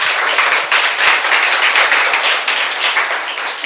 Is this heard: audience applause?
yes